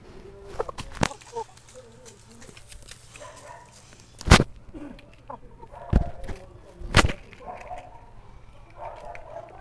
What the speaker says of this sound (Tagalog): Yan guys, yung manok ko.